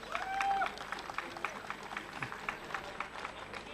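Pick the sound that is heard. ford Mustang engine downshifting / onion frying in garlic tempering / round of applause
round of applause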